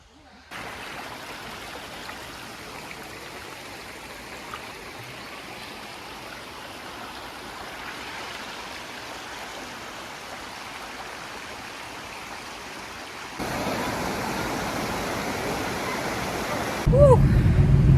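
A waterfall at Smuggler's Notch, reached by a short hike, gives off a steady broadband rush of falling water that keeps going throughout, growing louder near the end, with a brief voice heard.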